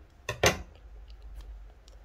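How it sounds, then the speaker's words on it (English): Scissors cut crochet yarn in two quick close snips early on, followed by faint ticks and quiet handling against a low hum. "cut your yarn"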